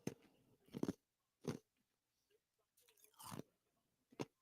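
Ice cubes being chewed close to the microphone during a live basketball broadcast, with several short crunchy bites in uneven bursts, clear and fairly loud between pauses.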